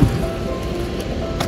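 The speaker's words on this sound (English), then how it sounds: "Guys, it's raining." Rain falls in a short, steady, dense patter close by, with almost nothing else audible.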